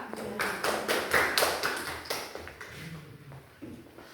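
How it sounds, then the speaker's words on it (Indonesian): Classroom applause: a short burst of clapping from a group of students, dense and fairly quiet at first, thinning out into a few scattered claps after about three seconds. "kita beri aplaus dulu untuk Syakila."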